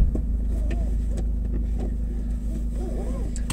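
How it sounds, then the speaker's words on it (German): A used car's engine runs just after starting, a steady low, close rumble at idle, with faint light taps over it. "Motor starten"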